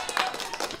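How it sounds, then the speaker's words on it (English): A short burst of canned applause fired off as a sound effect from streaming software, a brief patter of many claps lasting under a second, fairly quiet. "somebody clapping"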